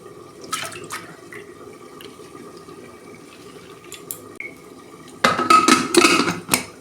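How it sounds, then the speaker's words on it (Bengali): Water is poured into a pressure cooker holding washed lentils in a home kitchen. Quiet clinks and faint noises come first, then a brief, close gush and splash of water near the end, with no talk. "এই যে প্রেসারে আমি জল দিয়েছি"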